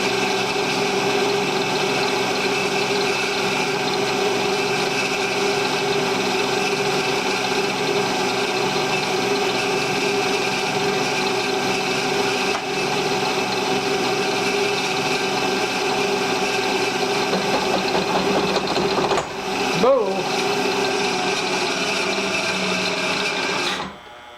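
Metal-cutting machine tool taking a 30-thousandths cut, a loud steady mechanical whine with a constant hum that runs nearly unbroken, ending in a brief clunk and then stopping.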